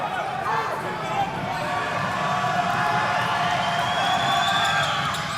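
Crowd at a district boys high school basketball game between Hidalgo and Rio Hondo roars steadily, loud sustained cheering and shouting with whoops throughout, no gaps.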